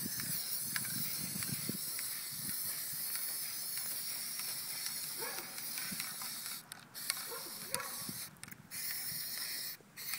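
Spray painting a yellow camo coating onto a gun: steady hissing spray with mechanical clicks and rattles of the spray gun, fairly close, with brief gaps where the spray stops.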